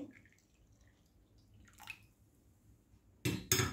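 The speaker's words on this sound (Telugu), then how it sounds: "ఇప్పుడు దీంట్లో ఇంకా వాటర్ కలుపుతాను" Water splashes and pours into a container of buttermilk in two short, loud bursts near the end, after a quiet stretch with a faint drip.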